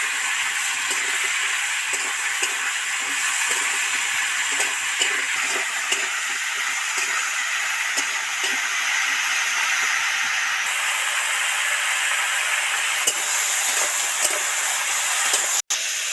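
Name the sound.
vegetables frying in a pan with salt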